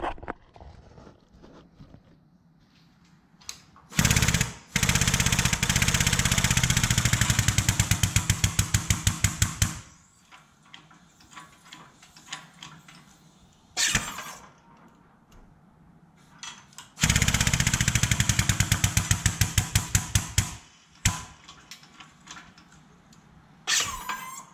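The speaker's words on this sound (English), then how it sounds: "on the grinding wheel." A grinding wheel works a silver pendant in two long, loud bursts of harsh whirring buzz that start and stop abruptly, with a short spurt between them and quieter handling noises in the gaps.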